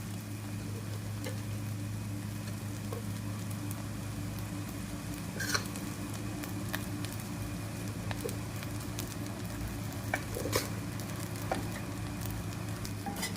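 Eggs and garlic fry undisturbed in a pan for spicy egg garlic rice, a steady close crackling sizzle with occasional sharper pops, even and moderately quiet throughout, no talking.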